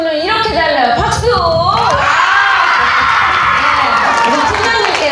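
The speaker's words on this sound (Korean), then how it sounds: "박수!" Middle school girls at a counselling event cheer, whoop and shout as a crowd, the noisy excitement steady and close throughout with high voices rising over the clamour.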